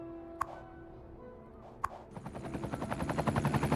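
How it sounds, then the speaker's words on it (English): A hospital helicopter in the city-building game Cities: Skylines 2 spins up, its rotor chop starting after two sharp clicks and building into a fast, rhythmic thumping that grows steadily louder. "Okay, they're using the helicopter."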